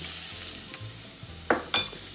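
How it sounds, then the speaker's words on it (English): Plums cook in a pan for plum sauce with a gentle, steady sizzle, broken by a couple of sharp utensil clicks against the pan close together. "So now that our plums are cooking"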